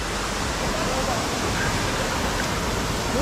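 Abasha river water rushing at Kaghu waterfall in Balda canyon in winter: a close, steady, loud roar of falling water that holds constant throughout with no breaks.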